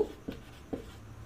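Pen or chalk strokes on a board while naming a chemistry compound: two short, faint scratching strokes about half a second apart, close by, with no talk.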